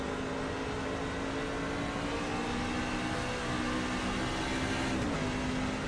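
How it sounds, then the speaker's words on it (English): A racing truck engine in a NORA Truck Series race at Gateway, a steady droning hum heard at a distance with little change in pitch, running on without a break. "The truck sounds alive at this point."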